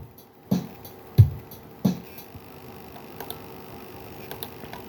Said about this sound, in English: We can change these hi-hats to 8th notes instead.